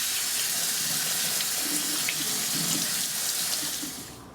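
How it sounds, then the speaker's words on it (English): Cold tap water gushing steadily into a sink over drained, simmered cabbage quarters, a continuous bright splashing rush that tapers off at the end. "Drain and run under cold water to cool it down."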